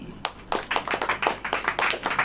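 A church congregation claps along in a steady rhythm at a sermon, a dozen or so sharp, close group claps following an opening single clap, loud and fairly regular with no talk over them.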